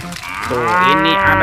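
A toy animal sound box plays a cow's moo, a single loud drawn-out bovine call, close and clear, with a brief bit of speech at the start.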